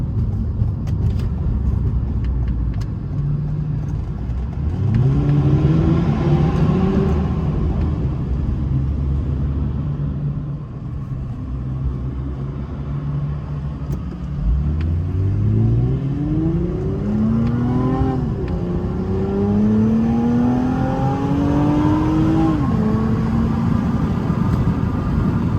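A Toyota Camry TRD, front-wheel drive with about 100K miles, accelerates through a tunnel; the engine and exhaust swell in loud rising pulls with gear changes, echoing and droning close and continuous.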